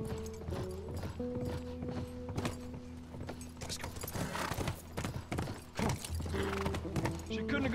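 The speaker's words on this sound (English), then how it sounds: "Oh, we're using the horse." Horse hooves clip-clopping in The Last of Us, a steady rhythmic trot heard close alongside game music and bursts of character voices, with a brief whinny.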